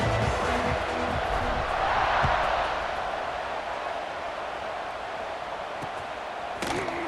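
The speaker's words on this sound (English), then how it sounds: "this crowd is feeling themselves after that last drive" Stadium crowd in the EA Sports College Football 26 video game, a dense continuous roar of cheering that swells and then eases slightly, with a sharp thump near the end.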